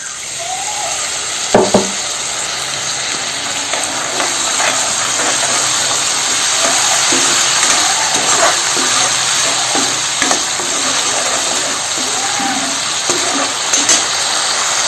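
Loud, steady sizzling and hissing of goat meat frying in oil in a home kitchen as water is poured in, the dense frying noise continuing close up throughout with a few brief clatters and no talk.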